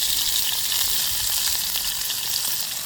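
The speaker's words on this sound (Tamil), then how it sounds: "நான் இனி வெங்காயத்தையும் மிளகாயையும் பொரிச்செடுக்க போகிறேன்." Onions and chillies fry in hot oil for vegetable noodles, a steady, close, loud sizzle and crackle that holds evenly for the whole stretch with no voices over it.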